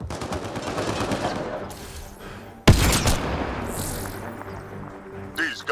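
Rapid automatic gunfire in Mass Effect: Andromeda during a pirate hideout fight, dense bursts of shots with a sharp loud blast near the middle and scattered impacts after.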